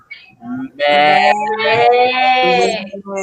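A goat's bleat is imitated by a human voice: a loud, wavering, nasal baa stretched over a few seconds, with a short lead-in, heard up close.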